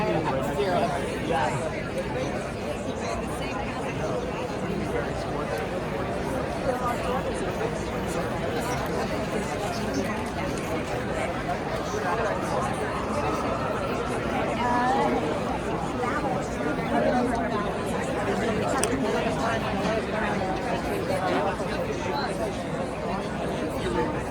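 A large crowd chatters while waiting inside Madison Square Garden before a Trump rally. Many overlapping voices form a constant, dense babble that fills the whole stretch at an even level.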